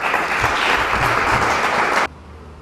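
An audience at a gospel meeting in Hounslow claps steadily for about two seconds, a dense, bright burst of applause that cuts off abruptly into near silence.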